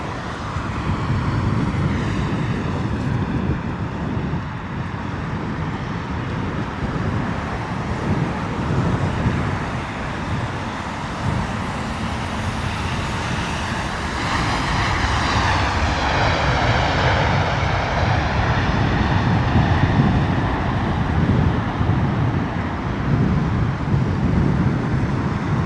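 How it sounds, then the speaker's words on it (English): An Air Canada Boeing 777 arriving from Vancouver lands at London Heathrow in wet, windy weather, its engine roar a broad, steady rumble that swells and whines as it passes close, loud and continuous with no talking. "Air Canada Boeing 777 coming in"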